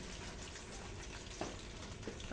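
Spicy Youngstown sardines sauté in a hot pan with a steady close sizzle and a couple of soft stirring knocks, with no talking.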